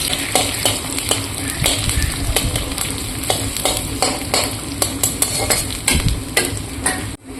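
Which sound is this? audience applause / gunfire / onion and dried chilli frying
onion and dried chilli frying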